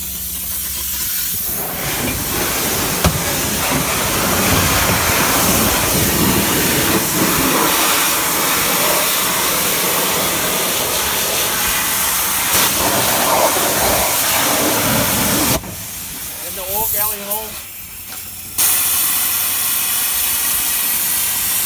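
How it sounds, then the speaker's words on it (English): A high pressure washer sprays a junkyard LS engine block with a loud, constant hiss that runs close and steady, briefly cutting out and sputtering before resuming. "now we're going to go to high pressure wash"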